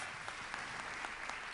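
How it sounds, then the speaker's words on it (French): Steady applause from an audience at the 2018 Trophées des Achats award ceremony, dense clapping holding at an even level throughout the short moment. "on peut les applaudir."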